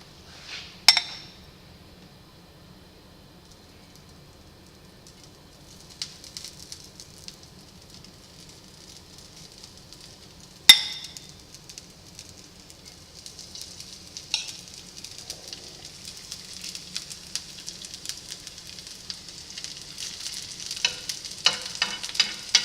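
Rehydrated potatoes frying in hot oil in a skillet for hash browns: a soft, steady sizzle with a couple of sharp utensil clinks, the crackle growing louder and busier toward the end.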